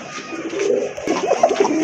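Pigeons coo close by in soft, repeated throaty phrases, growing busier in the second half, with faint background noise and no talk.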